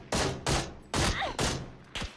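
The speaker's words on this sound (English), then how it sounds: "Is somebody near you shooting, too?" Gunfire in the PUBG video game: five sharp, separate bursts in quick succession at moderate distance, each with a short trailing decay and no talk over them.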